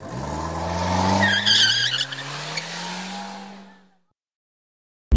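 A car with an LS engine drives by, loud and close, its engine note sliding steadily lower as it passes and fades away, with a tire squeal and skid near the start before silence.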